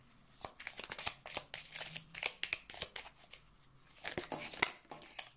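Tarot cards shuffle quietly in close, brisk riffling bursts, papery flicks and taps clustering in two runs with a short pause between them.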